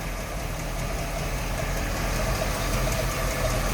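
A 1958 Chevrolet Delray with a V8 engine and HEI ignition idles steadily and smoothly, a continuous low rumble close by with no talk.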